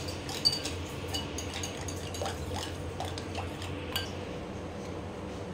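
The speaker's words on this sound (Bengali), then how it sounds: "দেখুন মিশিয়ে এটাকে আমি নাড়াবো।" Chicken mixed with black pepper and cornflour is stirred in a bowl, giving soft wet clinks and scrapes of a utensil against the bowl, with a few sharper taps and no voices.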